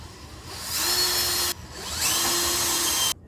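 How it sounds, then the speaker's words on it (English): A 5/32 drill bit boring two holes for a handmade gift, two steady high whining runs of about a second and a half each, close and loud, stopping abruptly after each hole. "So now I'm going to drill these 2 holes"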